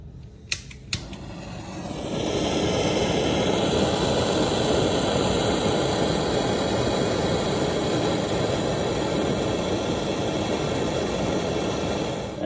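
A heat gun warms sound-deadening mat inside a 1954 Hudson, switching on with a couple of sharp clicks and then blowing a loud, steady, broadband roar that holds for about ten seconds, close to the listener.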